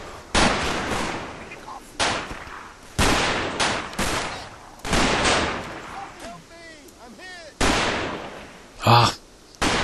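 Gunfire echoes across a Combat Mission battlefield near Market Garden: repeated loud shots and short bursts at irregular intervals, some with ringing echoes, while faint voices speak in between.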